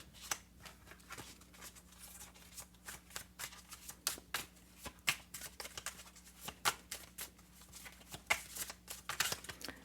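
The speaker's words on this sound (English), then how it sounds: "I used to wonder how tarot card readers shuffled so quickly" Tarot cards are shuffled rapidly and repeatedly, a quick rippling of sharp papery riffles and slaps, close and fairly quiet, with no talking.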